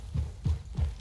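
Hooves of a horse in Red Dead Redemption 2 clip-clop at a walking pace, three soft, evenly spaced thuds, faint and alone.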